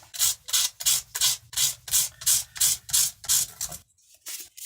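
Guitar frets being sanded to re-crown them, a steady rhythmic rasp of about ten even back-and-forth strokes, close and loud, ending in a short quieter scrape.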